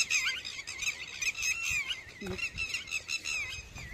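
A red-wattled lapwing calls repeatedly with shrill, high piping notes, faint and at some distance over farmland near Khambhaliya, Gujarat, over a low background hiss.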